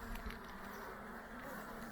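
Honeybees at a hive during a beekeeping check on the queen, a soft steady buzzing hum from calm bees, faint and continuous without any spoken voices.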